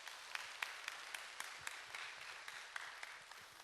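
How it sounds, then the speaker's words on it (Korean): Quiet, somewhat distant applause from an audience at a church evangelism conference in Gangneung, with individual claps standing out in an irregular rhythm and continuing steadily. "박수 부탁드리겠습니다"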